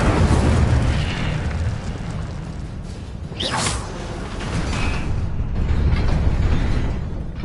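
The Incendio fire spell is cast in Hogwarts Legacy, a fiery whooshing burst with a rushing roar over continuous game effects and rumble, lasting a few seconds.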